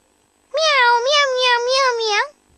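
A single drawn-out meow from a kitten, clear and close, lasting nearly two seconds in an otherwise quiet setting.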